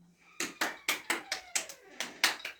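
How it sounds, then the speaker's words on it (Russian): About ten sharp hand claps in a steady, moderately quick rhythm, close and fairly quiet, with no voices over them. "Похлопали все."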